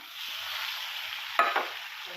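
Paneer fries in butter in a wok, giving a steady, close sizzle that suddenly gets louder with a brief clatter of stirring near the end.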